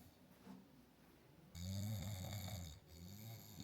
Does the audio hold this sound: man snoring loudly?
yes